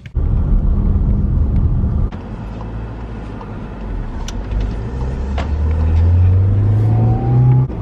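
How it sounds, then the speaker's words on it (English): Heard from inside a car on the road, a loud, steady engine and road drone fills the cabin, rising as the car accelerates, with no talking. "So I'm just in the car now, on my way to go and get my hair cut"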